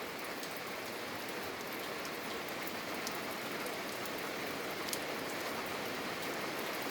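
Steady rain falls and patters on surfaces outdoors, a continuous hiss with scattered drop ticks and no voices.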